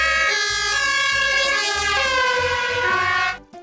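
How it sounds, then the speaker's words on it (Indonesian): A toy ambulance plays a loud, close electronic siren in a rapid wailing pattern that cuts off abruptly at the end, with no voices. "yang ini mobil ambulan"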